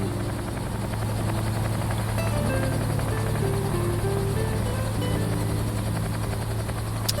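A simulated helicopter in Microsoft Flight Simulator drones steadily, its rotor and turbine hum holding a constant pitch with slight tonal wavering throughout, no voices present.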